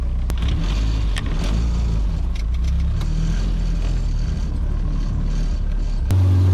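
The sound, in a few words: Acura Integra car driving at about 2000 RPM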